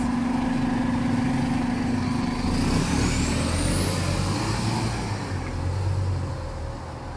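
A city bus pulls in through busy street traffic on Robertson Bridge in Singapore, a steady loud engine rumble and tyre roar close by, with a rising whine overhead and traffic noise throughout.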